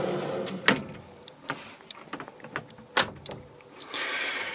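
Metal pull-out drawers under a motorhome sink slide and knock, giving several sharp clacks and rattling thuds at uneven intervals, followed by a softer rolling slide near the end.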